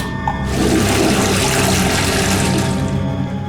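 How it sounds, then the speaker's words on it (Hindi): A toilet flushes loudly and close by, a sustained rushing gush of water that starts after a brief pause and pours steadily throughout, with no voices over it. "वो मैंने टॉयलेट में फ्लश कर दिए थे"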